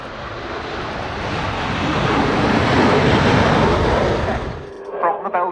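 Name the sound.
Belgian Air Component F-16AM Fighting Falcon jet flying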